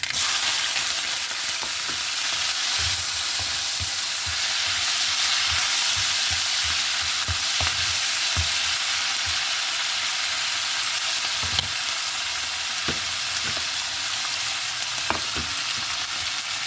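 About ten sliced green chillies and curry leaves fry in a pan of hot oil for a ginger curry, giving a steady close sizzle with light stirring clatter and no voices.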